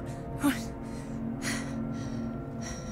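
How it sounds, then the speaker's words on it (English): Person gasping during a game of Alien Isolation, a few quick breathy intakes spaced about a second apart over a low background drone, fairly faint. "What are you gasping at?"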